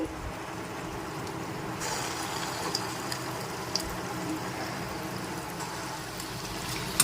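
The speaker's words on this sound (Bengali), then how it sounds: "লো ফ্লেমে রেখে বড়াগুলোকে ভেজে নিচ্ছি" Dahi vada lentil fritters frying in hot oil over a low flame, a steady soft hiss and bubbling sizzle that carries on evenly throughout, close up, with a couple of faint clicks and no voices.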